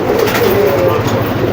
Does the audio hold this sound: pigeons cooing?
yes